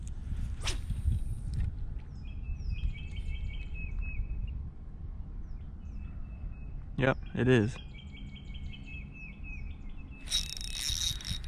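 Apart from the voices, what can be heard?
wild turkey gobbling with birds chirping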